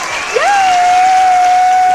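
Loud, dense clapping applause from a group, with a rising whistle-like tone that levels off and holds steady over the clapping to the end, no talk.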